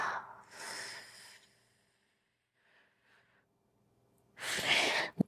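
Slow, audible breaths during a yoga session for core strengthening, with breathy exhales near the start, quieter soft breathing in the middle, and a strong, loud exhale toward the end.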